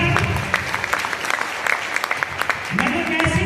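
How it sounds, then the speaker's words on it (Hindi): Audience applause at a stage event, a steady wash of clapping through the whole stretch with voices mixed in. "एक बार जोरदार तालियां सर"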